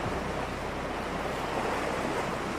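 Sea waves and a gentle breeze at Teluk Penyu beach in Cilacap: continuous, even surf wash with soft wind rumble, no voices.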